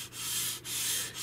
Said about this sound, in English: It's just basically very slowly and gently sanding away like that